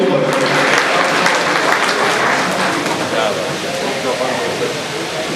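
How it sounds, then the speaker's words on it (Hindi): A hall audience at a school silver jubilee celebration breaks into full, sustained applause as a poet is welcomed onto the stage. The clapping stays thick and even throughout and eases only slightly near the end. "अजीजों, ऐसे नहीं और भरपूर तालियों में मोहतरम तनवीर गाजी आपके रूबरू।"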